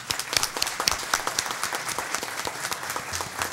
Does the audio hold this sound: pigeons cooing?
no